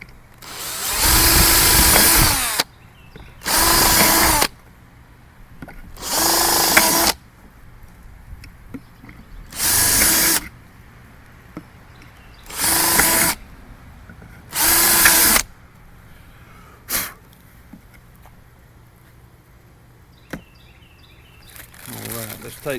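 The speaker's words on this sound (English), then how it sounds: "I'm gonna go ahead and drill me some holes in here" Power drill boring holes into a plastic chicken feed container in six loud bursts of two to three seconds each, separated by short pauses, with a few faint clicks and handling noises afterward.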